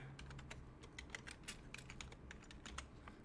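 Fast, uneven typing on a computer keyboard, many crisp close keystrokes clattering in quick succession at low level with no talking.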